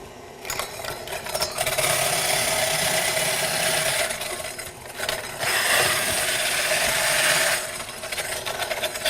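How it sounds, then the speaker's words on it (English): A KitchenAid mixer attachment whirs and grinds graham crackers at high speed, a loud continuous mechanical rattle that surges in two long bursts with a brief lull between them. "I'm going to turn this on and grind up my graham crackers really fast"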